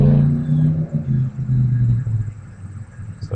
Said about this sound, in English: Looks like some sort of Camaro. Well, they're going to do a smoky burnout now.